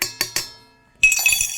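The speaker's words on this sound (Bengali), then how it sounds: "দিলাম রাতে ভিজিয়ে রাখা চিয়া সিড" A spoon clinks against a glass while adding soaked chia seeds, three bright ringing taps in quick succession, a pause, then a louder cluster of clinks and scraping, close and alone.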